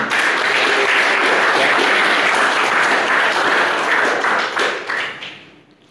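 Sustained applause from a university lecture class on research methodology, dense steady clapping filling the room for about five seconds before tapering off, with a brief spoken word at the start.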